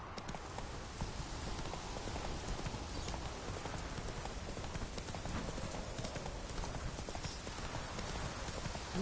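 Steady clip-clopping of horse hooves in The Witcher 3, a continuous rhythmic trot close up and fairly loud throughout, with no talk over it.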